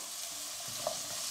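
Potatoes, washed and soaked to remove starch, dropped into hot oil in a pan, giving a continuous close sizzle with a small splash in the middle.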